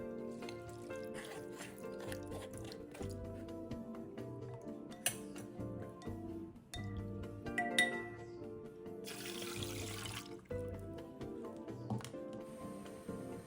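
Clean water runs over drained sago pearls being rinsed for a dessert, a soft continuous trickle and splash with a brief rush of flow partway through, fairly faint and close.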